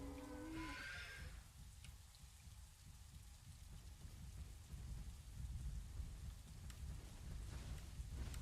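Rain in The Isle dinosaur survival game falls as a steady, dense hiss with a low rumbling undertone, joined at the start by a faint high animal call, no talking.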